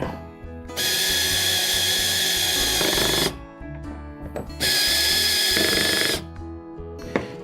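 A cordless power drill with its clutch turned down drives mounting hardware for a Power Pole Micro Anchor on a Hobie Pro Angler kayak, two sustained whirring runs of about two to three seconds each, close and loud, separated by a brief pause.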